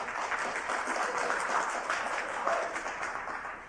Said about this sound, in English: Are the same people clapping every time?